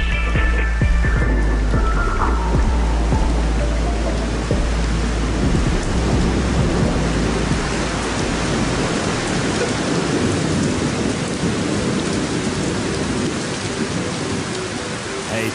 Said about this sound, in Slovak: sídliskový dážď, Medvedžanský dážď